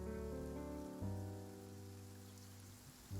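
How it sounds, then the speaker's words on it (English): Steady rain falling in the Genshin Impact world, a continuous close hiss of drops on surfaces that carries on alone beneath a low droning music bed. "It's raining."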